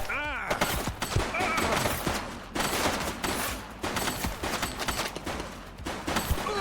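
Gunfire during a police shootout in The Precinct, with loud repeated shots and bursts firing in quick clusters across the whole stretch, mixed with voices.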